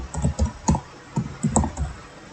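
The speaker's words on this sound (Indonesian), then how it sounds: "jadi cukup mengetik tanda petik 2 kali" Keys clatter on a computer keyboard as data is typed in, with close, uneven clicks in short runs and no voices.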